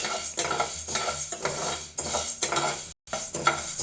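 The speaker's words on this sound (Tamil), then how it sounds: "நல்லா வறுத்துக்கலாம்." Urad dal dry-roasting in a pan, a spoon repeatedly scraping and clinking against the metal in quick irregular strokes, close and fairly loud, with one brief pause near the end and no speech.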